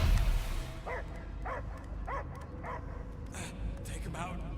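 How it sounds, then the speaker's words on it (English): Dog barking in the Guardians of the Galaxy video game, a run of about six evenly spaced barks over game music and ambience, moderately loud and close. "I hear only barking."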